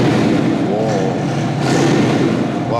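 Motorcycle with a stage 2 remap and fishtail exhaust revving on light throttle, a loud close engine note that swells and falls over a couple of seconds.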